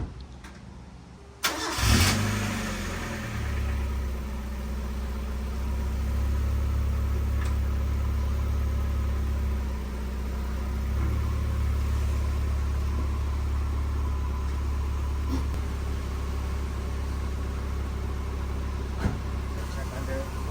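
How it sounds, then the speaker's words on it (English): A Mazda Miata engine cranks and catches after a short pause, then settles into a steady, low idle that continues for a long stretch, close by. "Now we are going to start her up and test for oil leaks."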